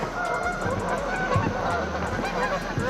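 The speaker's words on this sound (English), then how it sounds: "I apologize about the loud geese." Loud geese honk repeatedly outdoors at a lake, a chorus of harsh, rhythmic calls close by.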